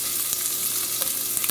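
Green beans stir-frying in bacon grease sizzle steadily in a pan, with a few sharp clicks and scrapes from stirring breaking through the continuous frying hiss; no voices.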